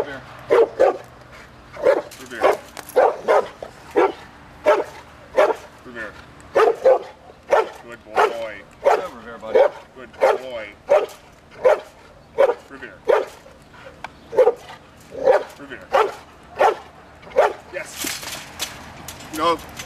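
A dog in Schutzhund protection training barks again and again in a steady, forceful rhythm, loud and close, while people talk now and then underneath.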